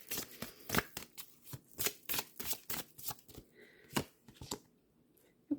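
Oracle cards are shuffled by hand for a card reading, a close run of quick riffling bursts and soft slaps in an uneven rhythm, with short pauses between bursts.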